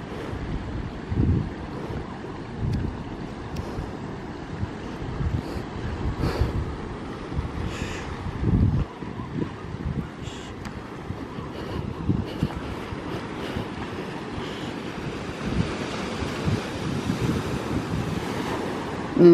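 Ocean waves wash onto the beach at Waikoloa Village in Hawaii, a continuous surf roar with repeated surges and strong wind buffeting the microphone.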